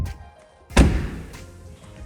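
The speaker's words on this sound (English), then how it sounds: "We'll put the tailgate back down" A single solid thunk as the tailgate of a 2023 Toyota 4Runner TRD Off-Road Premium swings shut, fairly close, with a short fading tail afterward in an otherwise quiet setting.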